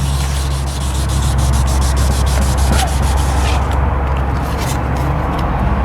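Wet sandpaper rubs back and forth across an oxidized plastic car headlight lens, a loud close continuous scrubbing that thins out near the end, with no voices.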